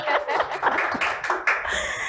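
An audience applauds guest Scott Murray at an entrepreneur interview event, a short burst of clapping mixed with voices and light laughter close by.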